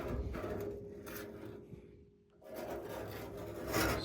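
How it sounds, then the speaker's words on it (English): A scraper rasps and rubs across old paint on a 1969 Hart horse trailer in repeated close strokes. A short pause falls midway before the scraping picks up again, louder toward the end. "But when I scrape it, I will show you what it does when I scrape it."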